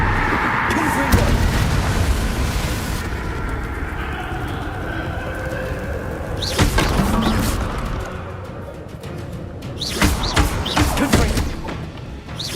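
Confringo explosive spells blast repeatedly in the Hogwarts Legacy video game, throwing out loud, booming bursts over a constant noisy background, with several sharp impacts clustered near the end.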